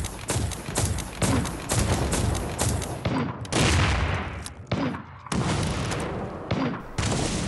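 Sticky bombs detonate in the Firefall video game as a rapid series of sharp, loud blasts with brief gaps between bursts, sounding like a crackling barrage of gunfire and booms.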